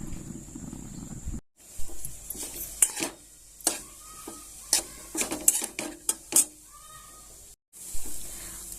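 Coconut barfi ingredients roasting in a pan, stirred with a spoon that gives a string of sharp scrapes and taps over light sizzling, close up, with two short silent gaps.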